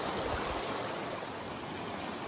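Siouxon Creek rushes along in a steady, broadband wash of flowing water, close and constant with no voices.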